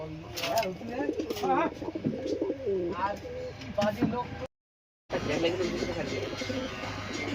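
A big Hungarian adult breeding pair of pigeons coos in soft, rolling bursts near at hand, while someone talks over them throughout; the sound cuts out briefly partway before the cooing and talk resume.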